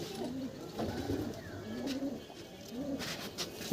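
A female Kalanka pigeon in a loft coos in repeated low, rolling phrases, close and fairly steady, with faint bird chirps around it.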